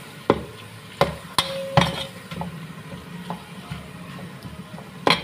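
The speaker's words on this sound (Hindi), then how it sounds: "अब मैं इसमें कीमा ऐड कर रही हूँ। कीमा ऐड करने के बाद इसको अच्छी तरह से भून लेंगे।" Minced meat (keema) fries in a pan with whole garam masala, a low steady sizzle broken by several sharp clinks and scrapes of a spoon against the pan, close and alone with no voices.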